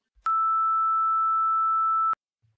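A lone 1320 hertz sine tone, a single harmonic from a synthesized banjo spectrum, sounds as a steady, even beep for about two seconds with sharp starts and stops and near silence around it.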